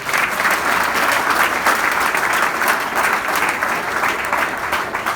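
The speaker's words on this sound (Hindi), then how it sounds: "तालियां कमजोर है।" Sustained, loud applause from a college audience at a comedy show for freshers, a dense steady clapping that fills the whole stretch without letup.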